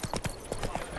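Quick, close clip-clop of hooves from Roach, a horse in a video game, several hoofbeats in a brisk rhythm within a second.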